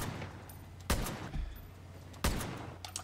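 Two loud, sharp sniper rifle shots about a second and a half apart in the post-apocalyptic shooter Far Cry New Dawn, each a sudden crack over a low steady background hum.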